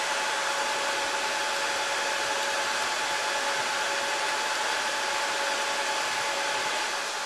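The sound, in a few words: Dell PowerEdge 2650 rackmount server fans running loud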